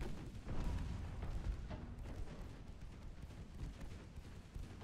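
Rumbling naval gunfire of armour-piercing shells in the warship game Ultimate Admiral Dreadnoughts, with heavy low booms rolling continuously through a dense, steady battle din and no clear gaps.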